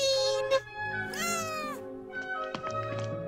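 A cat meows repeatedly and insistently while being bathed, rising and falling, with a few thumps and clatters mixed in, recorded close up.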